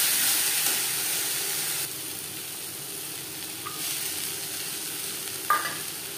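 Ginger and green chili paste fries in hot mutton fat with a soft, steady sizzle and hiss, broken by faint occasional stirring clicks, and no talk.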